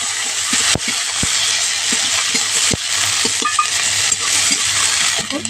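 Chopped onion frying in hot oil with black cumin and green chillies in a pan, giving a loud continuous sizzle broken by sharp clinks and knocks of a spatula against the pan.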